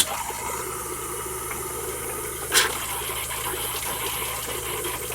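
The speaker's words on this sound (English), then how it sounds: "Now we can go back over to the bathroom, to our other faucet, to get the air out of those lines too." Water runs from a bathroom faucet in an RV, clearing air from the lines: a steady hiss of flow, moderately quiet, with one brief sputtering burst partway through and no talking.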